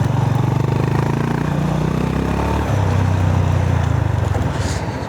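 A 2025 Honda GB 350S single-cylinder motorcycle rides off-road, its engine thumping loud and close with a steady throbbing rumble and clattering over rough ground.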